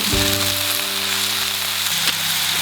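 Apples diced and peeled sizzle in two tablespoons of butter in a pan over a campfire, a steady close crackle and hiss running throughout with a low hum beneath.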